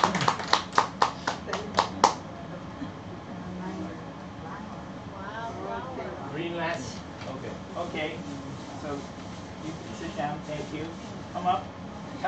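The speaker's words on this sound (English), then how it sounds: "Give her a big hand clap." A small audience at a café gathering claps hands in a short, quick run of about eight claps, and then people talk.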